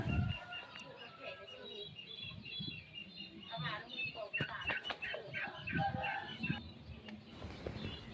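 A fighting rooster with a glossy black breast and black shanks, kept as a decoy bird, gives clucks and short crowing calls close by, with other birds chirping around it in an outdoor farm setting.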